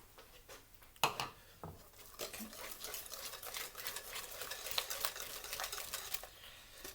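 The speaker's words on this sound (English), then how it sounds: "I'm just going to bring that together, whisk that a little bit so it's all nicely mixed in." Batter with melted butter being whisked in a bowl: quiet, rapid clicking taps of the whisk against the bowl, steady for several seconds after a sharper knock, with no speech.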